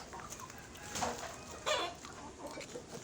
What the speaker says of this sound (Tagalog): Dami manok.